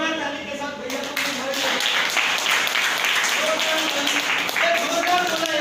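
Loud clapping from an audience at a gathering, a dense, sustained round of applause with sharp hand claps, while voices speak over the noise.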